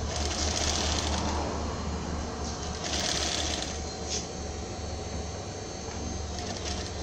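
A sewing machine runs continuously while stitching a sleeve onto a baby's festa junina shirt, a steady dense whir filling the whole stretch without pause.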